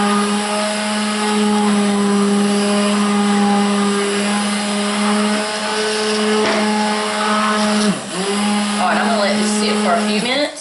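A blender motor whines at a steady high pitch while mixing coconut oil liquid soap, close and loud, with its tone dipping and wavering as the load shifts near the end.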